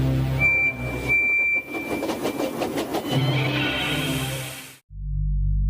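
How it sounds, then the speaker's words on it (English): A ghost train sound effect for a spooky story: rumbling rail noise, a high steady whistle tone and shrill squeals build into a screaming rush, then cut off abruptly to a low hum. "a ghost train rushing by, whistling fit to burst and cursing in a demonic voice before screaming into the darkness"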